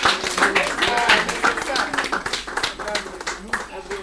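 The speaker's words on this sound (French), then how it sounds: "Acclamons avec Elisabeth" Congregation at a French-speaking church gathering clapping together, steady close applause running under a voice speaking throughout.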